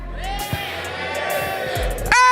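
A live esports arena crowd at the Mobile Legends: Bang Bang M6 World Championship knockout stage roars and yells for team SRG during a cheer battle, with a sustained wall of shouting that swells louder near the end.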